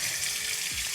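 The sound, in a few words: running hot tap water for washing sponges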